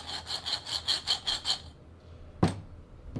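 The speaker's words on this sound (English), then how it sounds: "what this is doing is just kind of cleaning out any kind of burrs, any kind of little chips left from cutting" A deburring tool cleans burrs and chips from freshly cut copper pipe, making about seven quick, evenly spaced scraping strokes close by. After a short quiet gap comes a single sharp metallic knock.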